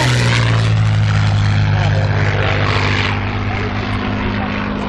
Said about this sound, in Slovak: A lietadlo Spitfire v krásnej pozícii, všimnite si to.